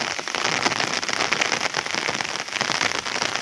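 Rain falling in the Gir forest hills, a dense continuous patter of drops on surfaces, fairly loud and close with no voices.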